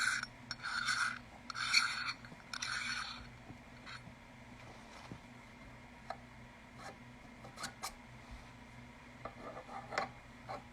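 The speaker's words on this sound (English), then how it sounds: "So I'm just going to have to unscrew this." An adapter is unscrewed by hand, giving bursts of close, dry rasping thread friction, then scattered small clicks and rubbing handling noises, alone and fairly quiet.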